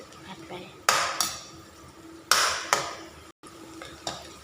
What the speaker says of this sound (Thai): เราก็ผัดไปเรื่อยๆไฟกลาง